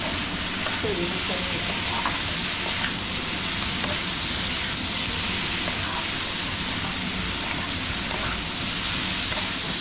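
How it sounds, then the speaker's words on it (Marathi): Bhogi mixed vegetables sautéing in a pan, a loud continuous sizzle and crackle with steady stirring scrapes running close throughout. "चांगलं परतायचं"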